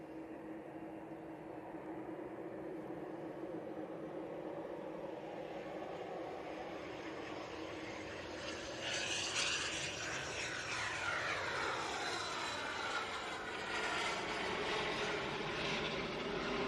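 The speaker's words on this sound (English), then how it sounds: "Embraer Phenom 300." An Embraer Phenom 300 business jet arrives at Manchester Airport, its engine whine building from a distant hum into a louder, sweeping roar as it passes, with no talk over it.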